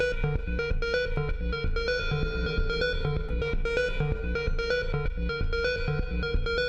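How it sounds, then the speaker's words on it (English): A steady, loud techno loop runs through an SP-404 MK2 sampler with reverb added on an effects bus, the layered beat sounding washed and continuous with no voices. "Bus 2, I'll add some reverb."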